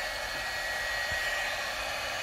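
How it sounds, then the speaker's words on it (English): An embossing heat tool blows hot air in a steady, even roar with no breaks, while it warms up to melt embossing powder on cardstock. "And now I'm going to turn on my heat tool, so you're going to hear that."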